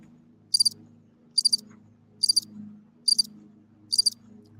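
Cricket chirping effect: five evenly spaced bursts of rapid high trills over a faint low hum, clear and alone.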